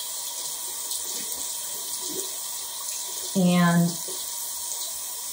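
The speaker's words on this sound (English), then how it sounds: "I'm gonna run this under the warm water" Warm water runs from a bathroom tap in a steady hiss during a skincare routine, with a brief louder splash as something is held under the stream; a voice speaks faintly once.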